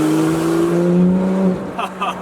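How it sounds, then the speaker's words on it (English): A Porsche 991 GT3 with the PDK gearbox in Sport mode and its exhaust valves open gives a loud, close revving drone with a clear pitched tone that builds and then cuts off sharply, followed by brief clatter. "See, that'll open up the exhaust valves."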